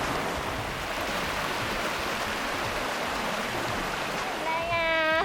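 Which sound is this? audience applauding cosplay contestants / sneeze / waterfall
waterfall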